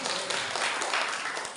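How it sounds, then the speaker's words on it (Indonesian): An audience in a church breaks into dense, continuous applause, a bright wash of many hands clapping close by for the whole stretch. "Tepuk tangan buat Tuhan."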